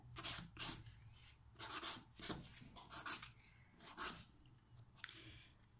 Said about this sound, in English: And as you're filing, you will be able to see where the product and the nail actually meet